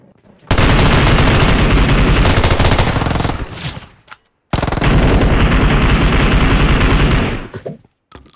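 Loud, sustained automatic gunfire from a shooter video game, rapid bursts rattling on for about three seconds, a brief gap, then another long burst before stopping.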